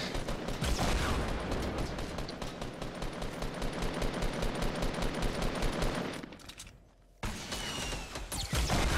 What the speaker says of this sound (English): They're shooting at all the bushes.